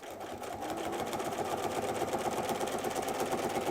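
Close by, a sewing machine stitches quarter-inch quilting lines through layered fabric with a fast, even mechanical whir and rapid needle chatter that keeps going without a break.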